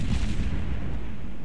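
Heavy naval guns of the cruiser Königsberg fire armor-piercing shells in World of Warships, a deep sustained rumbling boom that fills the whole moment with low thunder.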